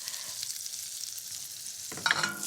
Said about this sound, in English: Just coat all of those breadcrumbs in the butter, and we're going to continually toss and keep an eye on that until it's golden and toasted brown